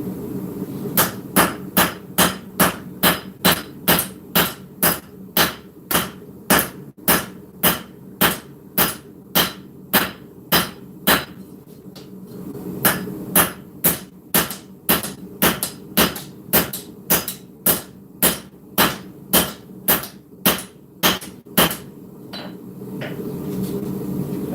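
A smith hammers a full integral steel knife on the anvil, flattening the handle area. About forty sharp, ringing blows fall in a steady, even rhythm in two long runs with a short pause between them.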